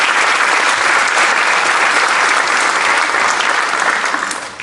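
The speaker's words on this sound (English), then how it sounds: "So let's give them a round of applause." A jazz festival audience gives a loud, sustained round of applause, dense and even clapping that fades out at the end.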